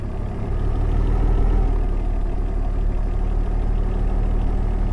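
A tow truck engine idles in Car Dealer Simulator, a loud, steady low drone that holds unbroken for several seconds with no voices over it.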